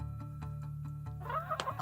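Chickens give brief clucks near the end after a steady low hum, fairly faint and short, with no talking.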